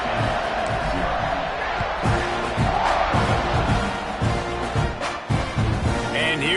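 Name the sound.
home football crowd cheering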